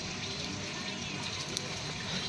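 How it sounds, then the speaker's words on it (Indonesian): Water is poured onto old dried floor mortar to soak it before laying ceramic tiles, a steady close splashing gush that runs without pause throughout. "Nah kita siram pakai air, kita diamin supaya peluran yang lama itu basah lagi."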